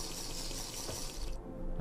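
Water pouring and splashing as glass bottles are filled in the block-building video game Minecraft, a steady watery rush for a couple of seconds that cuts off near the end, quiet and alone.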